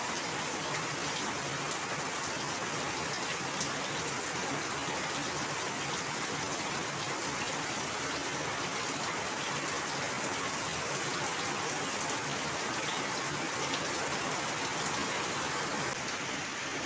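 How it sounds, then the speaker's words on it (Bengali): Heavy monsoon rain pours down on a village, a dense, unbroken hiss of drops striking surfaces that holds at an even, loud level throughout with no talk. "এই বৃষ্টি কখন থামবে?"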